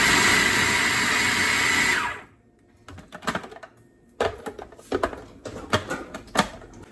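A kitchen grinder whirs loudly and continuously while sausage meat is ground, then cuts off abruptly, followed by a series of sharp clicks, taps and handling knocks in a quiet room.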